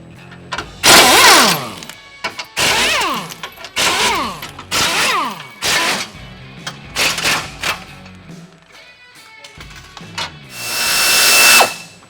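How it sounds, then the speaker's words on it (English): A Walmart 3/8 inch air ratchet removing car parts, firing in a series of loud, close whirring bursts of varying length with short pauses between them and a longer final burst, with no talking. "Buy yourself a Walmart 3/8 air ratchet, because I've had this thing for 8 years."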